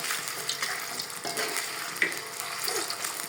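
Potatoes frying in a pan over a moderate flame give a dense, steady sizzle with light crackles and a few stirring scrapes, close and unbroken.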